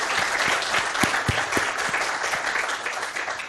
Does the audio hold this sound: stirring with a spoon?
no